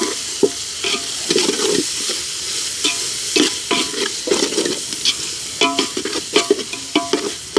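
Onions, mint, coriander and tomato pieces for chicken fry in oil with a busy sizzle, while a spatula stirs and clatters against the pan in quick, uneven bursts throughout.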